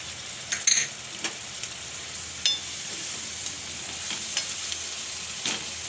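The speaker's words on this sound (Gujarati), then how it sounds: "હવે આપણે આ ટમેટાં ખમણેલા છે એને નાખી દેવું એટલે આપણી ચટણી દાજે નહીં" Grated tomatoes frying in a masala for raw banana curry hiss with a steady, close sizzle, punctuated by a few sharp spoon clinks and stirring scrapes.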